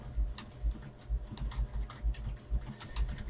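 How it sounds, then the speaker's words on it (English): Typing on a computer keyboard during a live sale of Series 18 full-size helmets, a quick irregular run of soft key clicks and taps close by, with no talking. "And I'll start typing."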